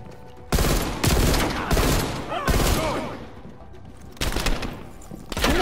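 Call of Duty Black Ops Cold War gunfire comes in a series of loud, sharp shots and short bursts in a hectic multiplayer match, spaced irregularly over a few seconds with game noise between them.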